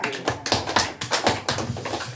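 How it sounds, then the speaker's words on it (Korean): Congregation applauding to close a worship service, a run of dense, irregular claps at close range lasting a couple of seconds without a break. "하나님께 영광의 박수로 예배를 마치도록 하겠습니다."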